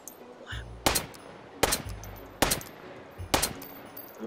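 Gunshots from target shooting in the virtual reality game H3VR: four sharp, loud shots at a slow, even pace, each with a short ringing tail, alone over faint background noise.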